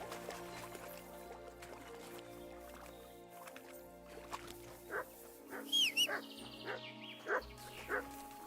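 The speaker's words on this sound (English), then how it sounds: "Good dog, Mutz." Mutz the dog in Kingdom Come: Deliverance II gives several short barks and yips over a quiet game ambience, the barks clustering toward the end in a loose, irregular rhythm.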